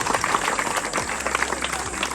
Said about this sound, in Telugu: వీళ్ళందరికీ ఒకసారి గట్టిగా చప్పట్లు.